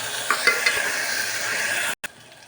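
Sliced tomatoes fry in a pan for gongura mutton curry, giving a steady close sizzling hiss with a few stirring scrapes; the sound cuts out briefly near the end, then resumes more quietly.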